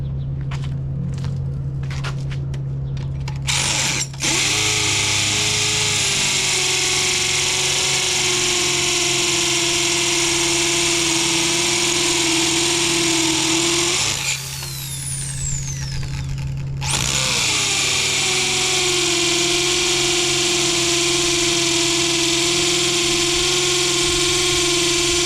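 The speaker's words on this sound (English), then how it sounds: "Drilling holes into the pavement, not the pavement, the cement" A power drill bores holes into a cement slab outdoors, a steady loud whine that runs almost the whole time, dropping out briefly near the start and again in the middle before revving back up, alone without talk.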